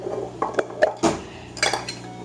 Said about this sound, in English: open the jam back up, put 2 scoops in